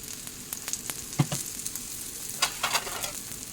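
Besan pola batter with grated potato fries in oil in a pan, a close, steady sizzle with scattered crackles and pops and light scraping as it is spread.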